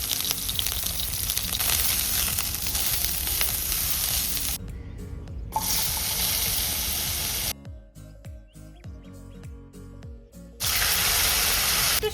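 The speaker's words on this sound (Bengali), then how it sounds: "আপাতত এবার পটলগুলো ভাজবো" Pointed gourd (potol) slices frying in a pan, a loud close sizzle and spitting hiss that cuts off twice into near silence with a few clicks, then returns at full strength.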